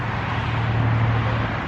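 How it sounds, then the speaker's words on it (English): Road traffic streams past behind a backyard as a steady, continuous wash of distant engine and tire noise with a low hum underneath. It stays even and unbroken throughout. "You can hear the traffic going by."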